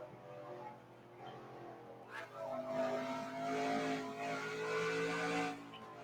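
A race car engine lapping Taronga Motorsports Park in New Zealand in a racing game, rising revs with harmonic whine after a sharp transient, steady and moderately loud, while a commentator talks over it.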